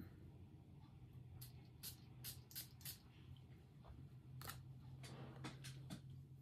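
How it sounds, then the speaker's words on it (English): A perfume atomizer (Atlante by Sarah Baker Perfumes) gives a handful of short, airy spray bursts that hiss in quick succession, then a pause and a few more sprays, soft and close over faint background hum. "All right, I'm gonna spray it."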